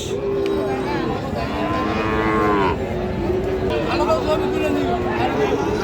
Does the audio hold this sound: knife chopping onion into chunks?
no